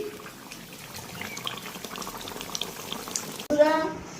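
Sukto, a Bengali mixed-vegetable curry, simmers quietly in a pan until water is poured in near the end, setting off a sudden loud hiss and bubbling burst, with a voice talking softly beforehand.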